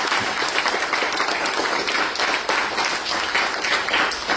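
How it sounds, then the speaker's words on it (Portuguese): Audience applause for a book's author at a launch ceremony, a dense, steady round of clapping from a crowd that holds even for several seconds. "Uma salva de palmas para ele."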